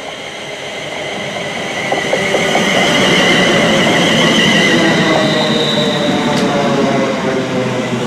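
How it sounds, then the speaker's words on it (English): A train rumbles into a station, growing louder and nearer, wheels grinding and squealing faintly as it slows, with steady mechanical roar and no voices. "here's our train to Stoke-on-Trent now"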